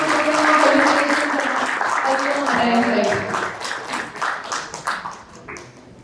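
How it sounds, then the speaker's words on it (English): Clapping from an audience at a stock exchange listing ceremony for a food company, strong at first then thinning into scattered claps, with a voice speaking over it. "Big round of applause for"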